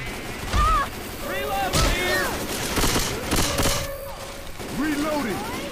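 Rapid bursts of gunfire from a shooting video game crackle in repeated volleys, loud and close, while players talk and shout over the shots.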